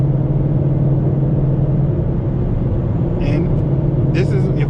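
A car engine hums low and steady while cruising in sixth gear on a highway, with constant road rumble throughout and a voice speaking briefly near the end.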